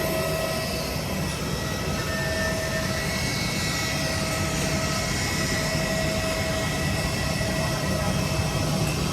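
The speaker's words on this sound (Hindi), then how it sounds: "ये है एयर इंडिया का विमान।" An Air India airplane at an airport gives off a steady, loud engine drone with a constant whine, an even roar that persists unchanged throughout.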